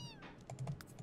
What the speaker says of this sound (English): What are you mewing?